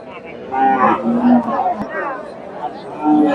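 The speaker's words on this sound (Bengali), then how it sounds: "এখানে একটা দেখেন ক্রসের গাভী আর এই যে বোকনা বাচ্চা" Crossbred dairy cows at a busy cattle market, with a couple of close, drawn-out moos rising over a background of people talking and murmuring.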